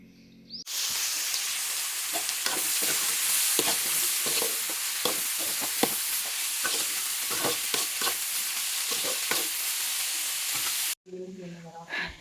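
Half-cooked bitter gourd curry fries in a pan with a loud, continuous sizzle and repeated stirring scrapes, close by, then cuts off abruptly near the end.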